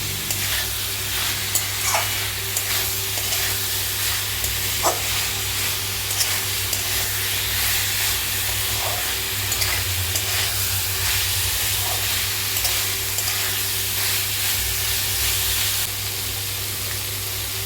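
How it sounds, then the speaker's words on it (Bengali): Water poured into a hot pan of sizzling cauliflower and potato curry, giving a steady loud hiss and steamy sizzle with occasional stirring clicks, continuous and close. "দেখুন জল দিচ্ছি।"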